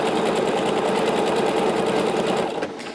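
Sewing machine running forward at steady speed, stitching elastic thread onto flat fabric pieces to gather a blouse or dress; a close, continuous rapid whir that slows and fades near the end.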